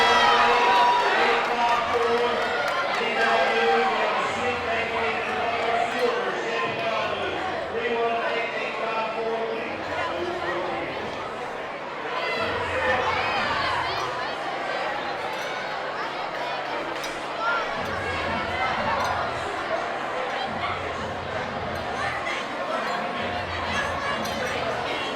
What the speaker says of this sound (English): Crowd awaiting the decision.